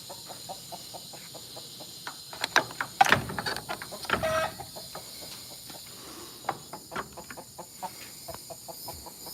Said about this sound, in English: And these are where the chickens are.